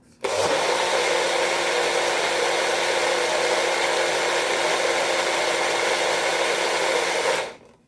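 A steady, loud electric whirring drone while a turmeric, garlic and ginger drink is whisked, starting abruptly and stopping after about seven seconds, with no voices.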